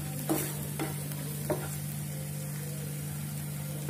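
Red sauce pasta is stirred in a pan under a low steady sizzle, with a few soft scraping strokes near the start and no talk.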